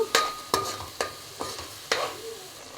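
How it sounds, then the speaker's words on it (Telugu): Onions and tomato puree fry in a pan for an egg omelette curry, a soft sizzle broken by about six sharp, rhythmic scrapes of stirring, close and clear. "ఈ టమాటా ప్యూరీ కూడా పచ్చివాసన పోయేంత వరకు వేగనిద్దాము"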